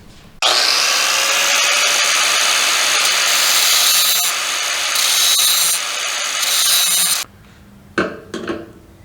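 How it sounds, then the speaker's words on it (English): A power grinder bites into a metal fuel tank ring for a 1970 Ford Mustang, a loud, sustained harsh whine for several seconds that cuts off abruptly, followed by a few faint clinks. "Yeah, so we're going to grind that down."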